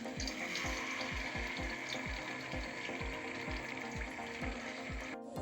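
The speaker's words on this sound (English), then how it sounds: "So our fish is going into the frying pan" Fish frying in a pan for a spaghetti stir fry, a steady dense sizzle that holds throughout, with regular low thumps repeating about twice a second underneath.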